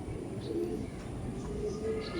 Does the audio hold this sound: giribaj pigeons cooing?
yes